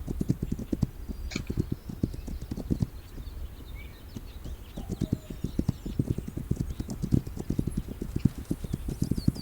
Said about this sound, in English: Were there any horses in that, I think there was